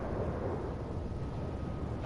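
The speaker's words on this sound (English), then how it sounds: "Wow, wicked. Thunderstorm." Thunder during a storm in the Red Dead Redemption 2 video game rolls as a continuous low rumble, steady and fairly loud with no voices over it.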